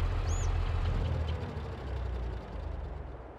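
A tractor engine in Farming Simulator 22 rumbles low and steady, cranking into a heavy idle that dips and settles toward the end, with a brief high tone near the start.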